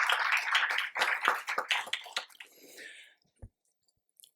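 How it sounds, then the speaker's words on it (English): Audience applause for a speaker at a conference inaugural session in India, a burst of clapping that fades out after about three seconds, followed by near silence and a single faint knock. "Ladies and gentlemen, please give him a big round of applause."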